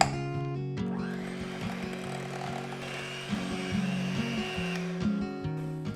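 An electric mixer whirs steadily on low speed while sugar is beaten into a shortbread crust dough for lemon bars, a close continuous motor hum with small shifts in pitch and no talking.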